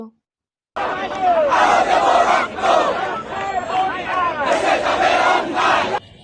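Protest marchers chanting in unison at a rally at Raju Sculpture in Dhaka, a loud, close crowd shouting rhythmic slogans in repeated bursts, with a brief pause midway before the chant resumes.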